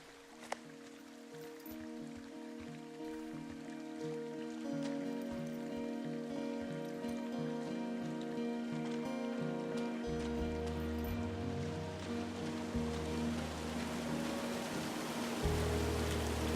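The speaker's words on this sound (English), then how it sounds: "It's a really nice waterfall down here." A waterfall in the video game Firewatch pours steadily as a continuous wash of rushing water, moderately loud and unbroken, with soft game music tones running beneath it and no talking.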